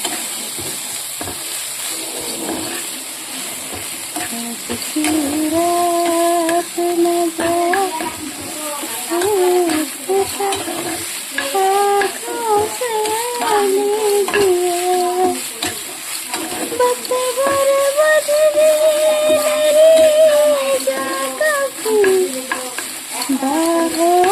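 Fish and leafy greens fry lightly in a pan and are stirred steadily. A continuous loud sizzle runs under repeated scraping of the spatula, with a faint tonal background sound.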